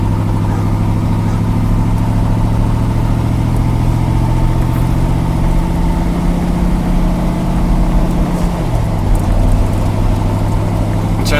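A 1976 Chevrolet Corvette C3, recently fitted with power steering, drives along with a steady, loud engine drone that holds even throughout, dipping briefly near the end as if shifting; no talking.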